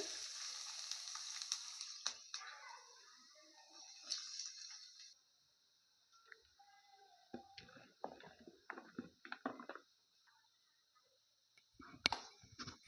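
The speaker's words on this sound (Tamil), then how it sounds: "கட் பண்ணி வச்சுருக்கிற பாவக்காய் போட்டுடலாங்க" Bitter gourd fries in oil with a soft, steady sizzle, broken by occasional clicks and scraping stirs close by, fairly quiet overall.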